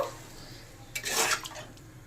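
Water poured into a pan of sole fish curry with cauliflower and potato, simmering in spiced oil, makes a short splashing gush after a quiet start, then trails off into softer trickling.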